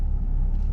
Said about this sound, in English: traffic is pretty heavy on the road today